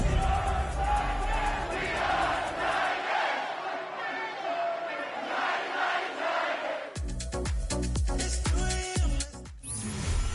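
A big crowd roaring and chanting at rainy Nissan Stadium in Nashville in a Madden football game, a steady mass of voices that gives way to sharp rhythmic stadium sounds near the end.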